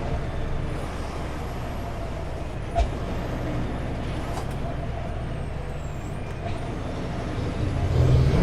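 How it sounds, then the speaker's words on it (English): Truck engine brakes working on a Greater Seattle area road, a steady loud rumbling drone with a brief thump near the middle, swelling slightly louder at the end amid road noise. "Yes, I had the engine brakes all the way on."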